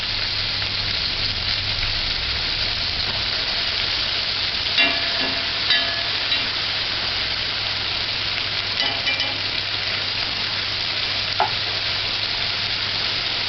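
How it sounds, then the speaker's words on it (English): Onion sizzles steadily in a hot pan, a continuous close frying hiss with a few faint clinks and scrapes of a spoon scattered through, and no voices. "Allow the onion to burn for about 3 minutes before you stir it."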